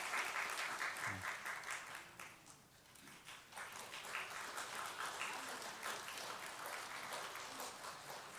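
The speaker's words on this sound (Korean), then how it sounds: "큰 박수 주시기 바랍니다." A church congregation claps during a Sunday service award presentation, a sustained, fairly faint wash of applause from a roomful of people that fades slightly midway, then swells again and continues.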